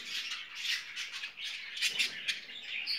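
Harsh, raspy squawking from a budgerigar chick, repeated in quick close bursts throughout, faint but continuous.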